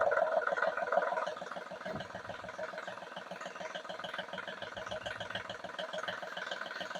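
A Volkswagen Polo diesel three-cylinder engine idles after injector programming, holding a steady, even rhythmic chug with a faint rattle, close and moderately loud with no voices.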